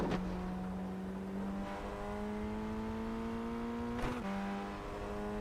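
A Formula Ford 1600 race car at Okayama circuit drones steadily from onboard, its engine note holding then stepping up through gear changes, loud and continuous with no talk.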